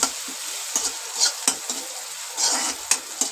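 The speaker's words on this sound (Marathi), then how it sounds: "याच्यामध्ये हा टमाटर घालून घेते मी टमाटर व्यवस्थित परतून झाला" Chopped tomato is stirred and sautéed in a pan with browned onion for a Marathi-style prawn curry, a close steady sizzle broken by scraping spoon strokes and light clinks against the pan.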